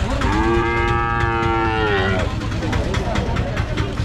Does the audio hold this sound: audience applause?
no